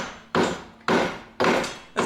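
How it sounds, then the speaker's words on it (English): Hammer blows on a Ford Sport Ka wheel hub during coilover replacement, four heavy metallic strikes at an even, roughly half-second rhythm, each ringing briefly before the next, close and loud with no talk. "then remove the hub using a hammer"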